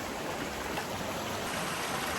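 Steady broadband rush of a flowing river, constant and unbroken with no voices, moderately close and fairly soft.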